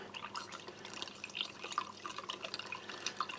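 Cold water poured into a glass of orange powdered drink from a British Army operational ration pack, a close, steady trickle of liquid with small drips and splashes throughout.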